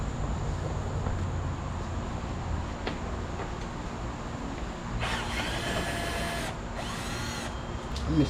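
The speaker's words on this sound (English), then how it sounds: "Y'all see me getting all the 8mm out from underneath the bottom with the drill." A power drill is used under the front bumper of a BMW 328i to pull out 8mm screws. A low mechanical background is broken by two bright whirring bursts from the drill near the end.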